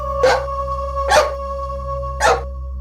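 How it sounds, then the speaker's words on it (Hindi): A dog gives three sharp, loud barks close by, spaced roughly a second apart over a steady low hum, with no talking. "इस कुत्ते से तो मैं परेशान हो गई हूँ, दुखी कर रखा है।"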